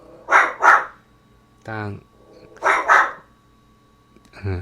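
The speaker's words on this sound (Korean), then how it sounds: "강아지가 짖어서 더 이상 못하겠는데" A dog barks loudly nearby in two quick double-bark bursts, with quiet gaps between. A voice speaks briefly between the bursts.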